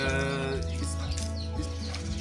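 A Faisalabadi breed goat bleats in a loud, wavering, nasal call close by on a farm, one sustained cry over a steady background.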